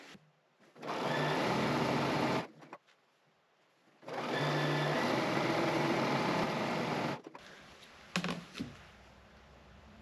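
A sewing machine runs in two long bursts while quilt strips are pieced together, a close, steady whirring with pauses between stitching runs and a brief clatter near the end.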